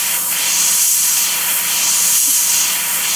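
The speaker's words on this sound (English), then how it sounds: "And notice how close I'm spraying from." A steady, close airbrush hiss sprays paint onto a scale model aircraft at short range, holding an even, continuous rush for a few seconds with no talking.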